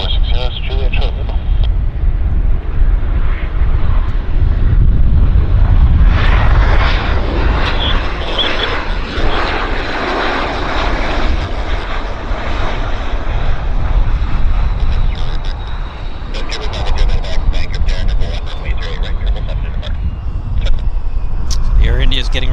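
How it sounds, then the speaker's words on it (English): Air India jet at Vancouver Airport preparing to depart, engines producing a loud, steady broadband roar with rising and falling swells, heard continuously from a nearby vantage with a voice talking over it. "The Air India is getting ready to depart."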